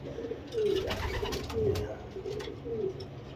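Late-hatch racing stock pigeons in a loft give soft, repeated throaty coos close by, each rolling call rising and falling over a low murmur.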